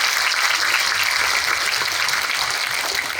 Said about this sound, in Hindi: जोरदार तालियां बजाए एक बार यीशु के लिए।